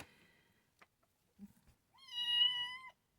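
A kitten meows once, a single drawn-out, fairly clear cry to be picked up, preceded by faint soft rustles and small thumps nearby in a quiet room.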